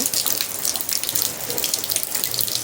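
Heavy rushing water from the twin falls of the Kapildhar waterfall beside a temple, a steady broadband roar during monsoon rain, continuous and fairly close with no talk.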